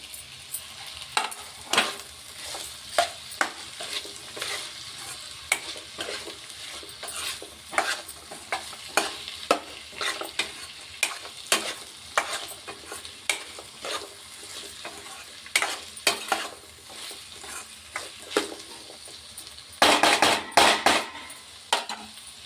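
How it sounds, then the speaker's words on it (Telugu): Curry leaves sizzle in a frying pan while a spoon stirs and scrapes, with irregular clinks and taps against the metal over a soft frying hiss that grows busier near the end. "ముందుగా కడిగి పెట్టుకున్న కరివేపాకు కూడా వేయాలి"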